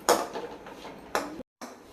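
A spoon stirring turmeric into a cooking mixture in a metal pan, giving a few sharp metallic scrapes and clinks close by, with a brief silent gap before a final scrape.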